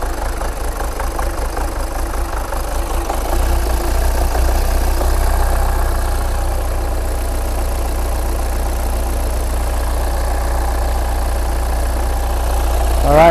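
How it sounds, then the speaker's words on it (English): A Hyundai engine with an EGR valve fault (code P0404) idles roughly, a steady low, uneven drone up close that grows slightly louder after a few seconds and runs on without talk. "I can hear the engine is getting a little bit rough."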